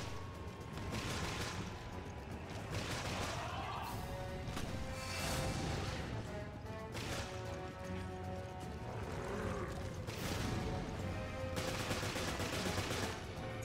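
Heavy gunfire from a boss enemy in Resident Evil Revelations, with dense, continuous bursts of shots and crashes repeating loudly across the whole stretch, set inside a busy game fight.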